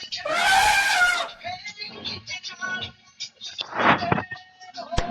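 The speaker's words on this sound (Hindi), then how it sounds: "हाथी।" Elephant trumpeting in a block-building video game, a long loud blaring cry at the start and a second shorter blast later, with quieter animal sounds in between.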